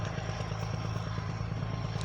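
A tractor clearing land and pushing cut trees aside gives a steady, loud low engine drone with constant mechanical clatter, heard up close and without pause.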